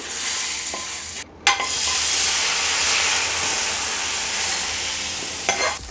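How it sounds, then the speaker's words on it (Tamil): Loud, steady sizzling and frying hiss fills the clip, with a brief drop midway and a couple of clinks as hot spice tempering with curry leaves hits horse gram rasam. "தாளித்ததை ரசத்தில் அப்படியே கொட்டிக்கிறேன்"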